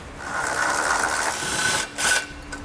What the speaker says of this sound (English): Once you get them loose, you can use a power wrench to remove them.